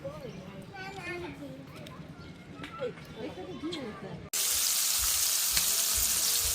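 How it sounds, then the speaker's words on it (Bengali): Puti fish (pool barb) fry in a pan for curry. Voices and children chatter at first, then a loud, steady, close sizzle suddenly takes over and continues to the end. "এদিক দিয়ে পুঁটি মাছ ভাজি করে নিচ্ছি তরকারি রান্নার জন্য"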